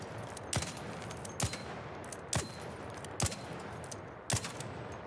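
A weapon fitted with a compensator fires in the ARC Raiders game, giving evenly spaced, sharp, loud gunshots in a steady rhythm over a low ambient game hum, each crack standing out clearly.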